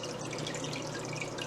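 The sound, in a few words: water flowing in a saltwater aquarium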